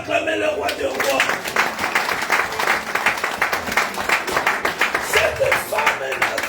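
A church congregation applauds and cheers in a sustained, dense wash of clapping that runs steadily from start to finish, loud and close, with voices mixed into the crowd noise.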